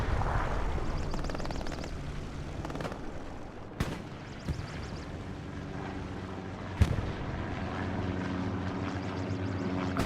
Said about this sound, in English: Artillery shelling one of the tanks, it looks like.